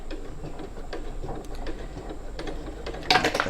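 A domestic sewing machine stitches forward on a reversible tote bag after a short reverse lock stitch, giving a soft, steady mechanical patter with a louder, faster burst of needle clatter at the end.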